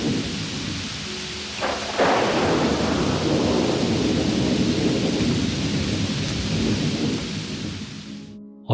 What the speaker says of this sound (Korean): 장대 같은 비가 계속 쏟아졌고 광주에 도착했을 땐 이미 자정이 훌쩍 지나가 있었어. 천둥 번개까지 쳐가면서 비는